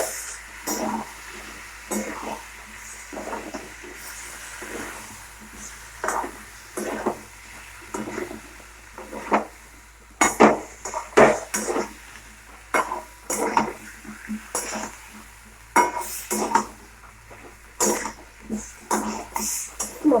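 Spices with boiled elephant foot yam and potato fry and are stirred in a pan, a low sizzle under repeated scraping and clanking spatula strokes that come in irregular bursts, growing busier in the second half.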